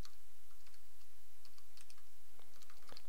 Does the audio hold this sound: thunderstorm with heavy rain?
no